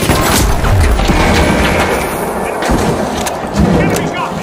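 A grenade explosion in The Finals arena shooter: loud, close booms with rumbling thuds and crashing debris over a noisy battle background.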